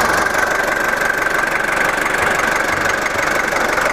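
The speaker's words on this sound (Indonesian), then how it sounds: "Ini adalah ruang mesin dari Land Cruiser BJ40 tahun 1982." A 1982 Toyota Land Cruiser BJ40 hardtop diesel engine idles steadily, a loud, close, even clatter with a continuous low rumble and no voices over it.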